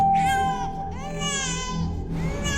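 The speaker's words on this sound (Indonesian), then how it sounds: "Papa dengar gak? Ada dede bayi nangis." An infant wails in rising, drawn-out cries, with two long sobbing bursts and a third beginning, close and loud over faint background music in a comedy skit.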